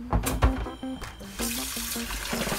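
Raw beef for a slow-roast prime rib being rinsed with water and vinegar at a sink, with running water splashing in uneven bursts close by, and no talking.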